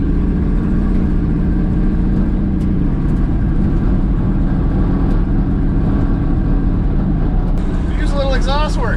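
An abandoned 1970 GMC truck on its first drive in 20 years, its worn engine droning loud and steady from inside the cab as it runs along, with a short squeal near the end.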